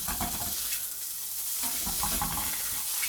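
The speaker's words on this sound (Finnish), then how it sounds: "Viisi nakkia pilkottuna, ottaa vähän väriä nakeille ja saadaan pikkusen semmoista rapsakkuutta." Five chopped sausages fry in a pan, giving a continuous close sizzle and crackle broken by the scrape of stirring.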